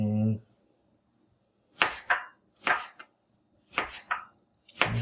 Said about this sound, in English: let the knife do the work for me